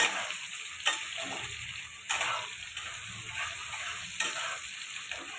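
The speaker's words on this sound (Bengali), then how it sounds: "টমেটো দিয়ে আবার ভাজবো ভালো করে।" Tomatoes sizzling in oil with onions for a mutton curry, stirred with regular spatula scrapes about once a second over a steady, close frying hiss.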